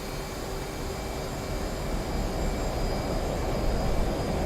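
F/A-18 jet engines spooling up on an aircraft carrier in DCS World, a steady, broad roar and whine that slowly grows louder, with no talk.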